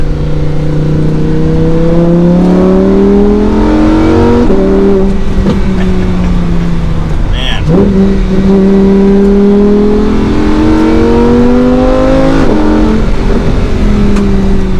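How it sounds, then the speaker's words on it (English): A naturally aspirated Lamborghini Huracan EVO RWD engine revs up steadily through several gears, its rising drone dropping at each shift, loud and heard from inside the cabin; a brief word is spoken. "you get so many nice naturally aspirated engine noises inside this cabin."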